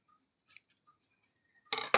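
Scissors snip through crochet yarn: a few faint, light ticks of handling, then two sharp close cuts at the end.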